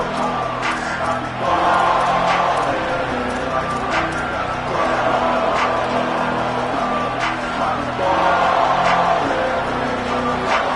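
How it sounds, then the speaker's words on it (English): A packed stadium crowd at a Texas A&M vs Oklahoma college football game roars loudly and continuously, swelling in waves, with a commentator's voice heard over the noise. "This crowd trying to show them what it's going to be like all day in this house."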